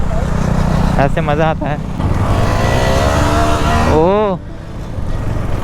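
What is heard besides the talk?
KTM Duke 390 motorcycle engine riding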